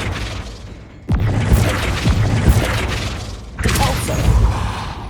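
A Flipendo spell fires in Hogwarts Legacy on PS5, a sudden loud burst followed by rumbling magical impact and debris, then a second surge of crashing energy near the end.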